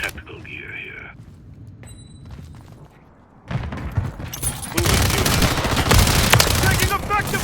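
Gunfire in the video game Call of Duty Modern Warfare 3, with quieter mechanical clicks and sparse sounds at first, then bursts of rapid automatic fire and dense shooting, loud and close, mixed with in-game voices.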